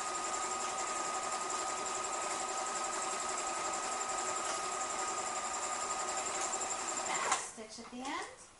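A sewing machine stitches a bandana at full speed, a steady close mechanical whir running continuously for about seven seconds before stopping, with a voice talking over it.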